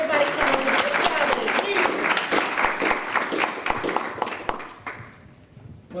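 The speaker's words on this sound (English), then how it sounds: "Please clap for everybody coming in." A crowd at a candidates' meet-and-greet in Warren, Michigan claps loudly and steadily for several seconds as people come in, with talk running underneath, then the clapping thins out and fades.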